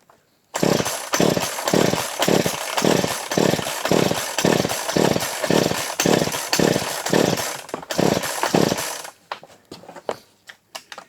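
A ten-year-idle chainsaw running on 40:1 two-stroke mix, starting up and holding a loud, steady rhythmic engine pulse close by for about eight seconds before cutting out to sputtering, uneven bursts.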